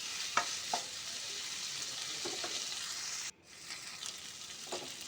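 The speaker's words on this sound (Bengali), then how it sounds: "তো দেখুন এঁচোড়ের সঙ্গে মশলাটা খুব ভালো করে ভাজা হয়ে গেছে।" Raw jackfruit frying with spices gives off a faint, continuous sizzle, broken by a few soft stirring scrapes and a brief dropout before the hiss resumes.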